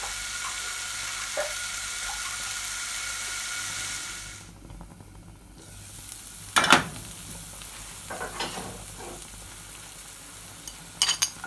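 Chilli and garlic frying in an old cast iron skillet, crackling steadily up close. The sizzle dips briefly midway, then returns with sharp metallic scrapes and clinks.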